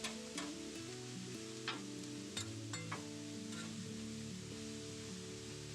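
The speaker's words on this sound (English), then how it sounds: "Spread this out over my griddle to get as much cooking surface on this as I can to finish the browning and" Taco meat sizzling as it browns on a flat griddle, a constant crackling hiss with a few sharp scrapes of a spatula near the start.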